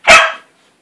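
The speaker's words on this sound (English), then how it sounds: "Bark. Say hello to everyone in California." A Giant Schnauzer puppy lets out one loud, close, sharp bark that ends quickly and leaves silence.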